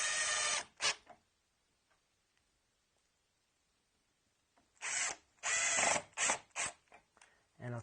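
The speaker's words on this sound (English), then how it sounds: "So I'll put a couple other screws in." A power drill drives screws into wood while building a retro gamer coffee table, with a loud burst at the start, a quiet gap, then several short close bursts in quick succession.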